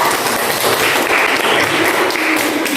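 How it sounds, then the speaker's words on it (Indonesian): Classroom applause for student presentation groups, a dense steady patter of many hands clapping close by for about three seconds with no talk over it. "Begitu berikan aplaus untuk kelompok 4 dan kelompok 3."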